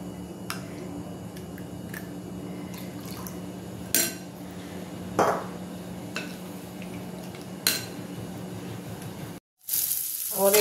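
Spice paste of Kashmiri chilli powder, hot chilli powder and garam masala mixed with water sizzles steadily in a pan for paneer masala, with occasional utensil clinks and a louder burst of frying near the end.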